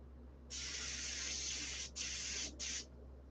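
Paint sprayer laying down a coat of white paint, three hissing bursts: a long steady spray about a second and a half, then two shorter passes, close and fairly loud over a low background hum.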